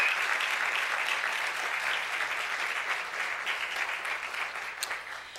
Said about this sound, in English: And so how about a round of applause?